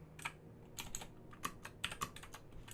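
Computer keyboard typing, close and fairly quiet, with irregular clusters of sharp key clicks over about three seconds and no voice.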